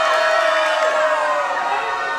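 A big, excited wrestling crowd at the Battlefield Performance Center roars and cheers without pause, a dense wall of shouts and whoops filling the arena.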